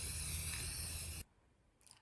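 Aerosol spray paint hissing steadily onto wooden closet pieces outdoors in cold weather, one continuous burst that cuts off abruptly, followed by near silence and a faint clink.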